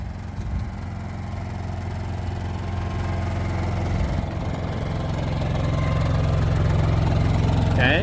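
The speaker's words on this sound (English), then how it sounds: "Okay, so this is right next to the generator." A portable generator fitted with an Eco Kit idles right up close, a steady low chugging drone with a faint rhythmic knock that grows slightly louder and fuller toward the end.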